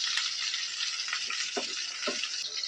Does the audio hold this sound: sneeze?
no